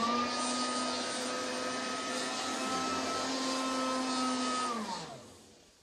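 A late-1980s Oreck XL 8300 upright vacuum cleaner running with a steady high whine and motor hum, then switched off so the pitch drops and fades away near the end.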